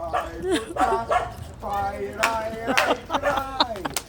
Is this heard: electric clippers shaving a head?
no